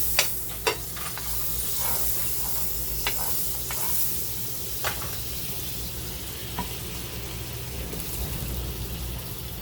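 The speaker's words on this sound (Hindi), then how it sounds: "तवा गरम हो गया, अभी मस्का डालेंगे और भुनेंगे, अलट पलट करके भुनेंगे।" An egg mayonnaise sandwich toasts in butter on a hot tava, giving a steady close sizzle with a few sharp clicks and taps, and no voices.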